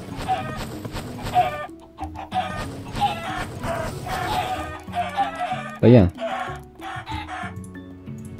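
Chickens in the Minecraft video game clucking repeatedly in short bursts, with a rooster-like crow among them, heard over a person talking casually throughout.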